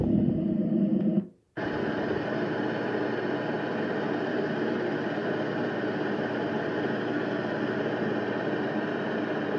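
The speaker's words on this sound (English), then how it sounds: "Sounds like a generator." A white noise machine playing a setting that resembles a generator, a steady low droning hum that runs continuously at an even level after a brief gap near the start.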